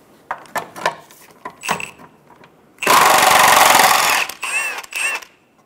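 Socket wrench removing the rear lower transmission mount nuts on a 2003-2007 Honda Accord 3.0L V6, with sharp metallic clicks and clanks followed by a loud burst of an impact tool running for about a second.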